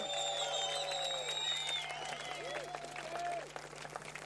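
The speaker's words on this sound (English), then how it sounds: "Big round of applause for him" Spectators applaud Michel Brez, the people's champion, at a surfing contest finals show in France, a crowd of clapping and cheering with whistles and tonal sounds layered on top, fairly faint.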